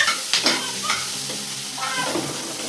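Vegetables being stirred and sautéed in a pan, a soft sizzle under a few light scraping strokes of a spoon, faint and close with no talking.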